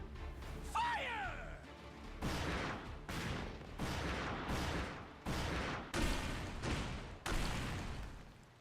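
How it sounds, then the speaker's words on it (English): Laser cannons fire aboard a ship in the video game Like a Dragon: Pirate Yakuza, with a sweeping zap early on followed by about seven loud, evenly spaced blasts, each rumbling briefly before the next. "Those are lasers, not cannons."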